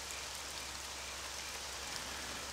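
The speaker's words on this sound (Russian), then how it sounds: "Ладно, будем пока видеть кислотный дождь." Acid rain in the Daemonica game falls as a steady, faint, even hiss of rainfall with no voices and no breaks.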